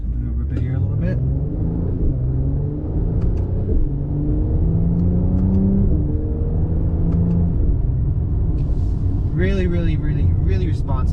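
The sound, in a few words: Mercedes-Benz C43 AMG engine accelerating hard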